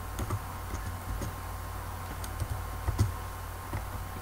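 Someone types on a computer keyboard while entering dimensions in AutoCAD Civil 3D. Sparse soft key clicks sit over a constant low hum and a steady background hiss, with no voices.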